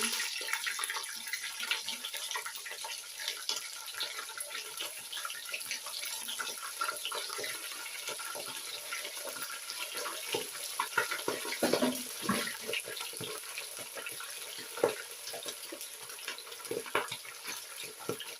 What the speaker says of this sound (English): I'll put my protein in my oil to fry